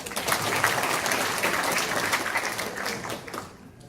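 A room of people at a regional council policy forum applauds, dense clapping holding steady for a few seconds before thinning out at the end.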